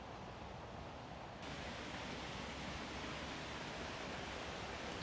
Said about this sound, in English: Sound of rushing water behind me.